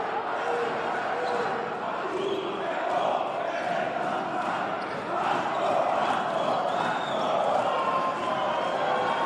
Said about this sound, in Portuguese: Vamos ouvir aí a torcida do Vasco na vibração.